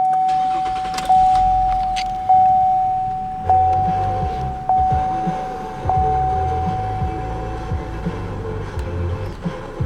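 A 2015 Chevrolet Impala with a 3.6 bi-fuel CNG and gasoline engine at 121,000 miles starts up. A steady dashboard chime with soft ticks gives way after a few seconds to a low, even engine rumble at idle, close by.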